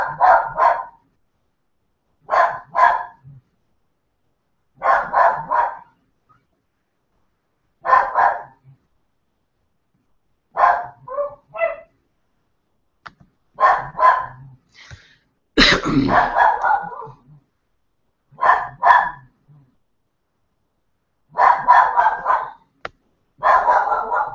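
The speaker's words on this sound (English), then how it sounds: "Sorry again for my dog." A dog indoors barks at trick-or-treaters in repeated short bursts, mostly in pairs or small groups separated by silences, loud and close, with one harsher, longer outburst midway.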